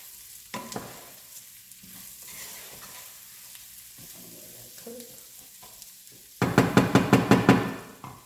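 Food frying in a pan, mostly a quiet low sizzle at first, then a burst of rapid, loud, rhythmic clanks and scrapes of a utensil against the pan near the end, with no talking.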